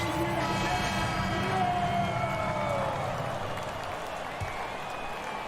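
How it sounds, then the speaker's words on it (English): Crowd applause in a basketball video game claps and cheers continuously at a distance, with a faint rising tone and murmuring running underneath. "Please give a big round of applause for your Raptors"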